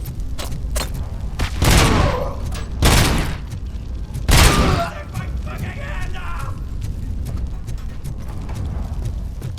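Bursts of gunfire in the Robocop video game, with several loud broadband blasts early on and a scatter of sharper shots after them. Someone talks over part of it.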